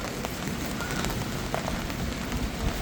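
Light rain patters steadily on surfaces at an Italian campsite as a storm eases, a dense even hiss of drops with no voices.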